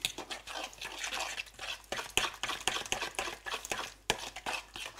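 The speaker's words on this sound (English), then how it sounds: "You mix all this together." Porridge being stirred in a pot, with a continuous close scraping and swishing of the spoon in an uneven rhythm and occasional sharper knocks against the pot, no one speaking.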